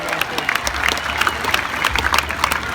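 An outdoor crowd applauds steadily at a 275mm tree felling contest handicap heat in Sydney, dense clapping with scattered cheers throughout, fairly loud.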